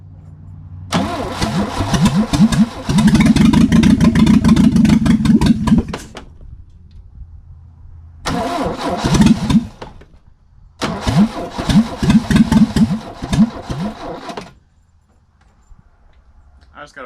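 Barn-find Opel GT engine cranks and catches for its first start in three loud bursts, sputtering and revving before dying, with quiet gaps between attempts.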